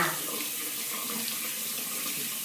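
Steady shower or tap water runs and splashes over one arm, wetting the skin before applying shower gel; a continuous close hiss with no talking.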